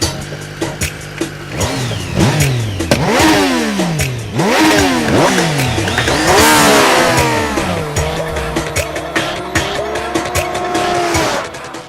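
An older Triumph Street Triple three-cylinder engine screams through rapid upshifts and downshifts, pitch sweeping up and down repeatedly, loud and close, with roaring bursts and no talking.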